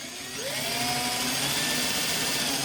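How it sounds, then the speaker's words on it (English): A Parkside PWBSA 12 A1 cordless angle drill drills close up, its motor whine climbing in pitch as it spins up and then holding a loud, steady tone. "Or you can drill on the tight areas,"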